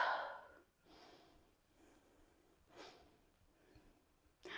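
Breath during a yoga pose: a few soft, airy exhalations and inhalations come in slow, spaced pulses, faint and close, with no speech over them.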